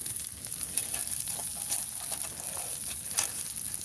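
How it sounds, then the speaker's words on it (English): Water boiling on the ground close to a fire gives a steady, crackling sizzle with light patter, fairly loud and continuous, with no talking. "You hear that water boiling? That's water on the ground."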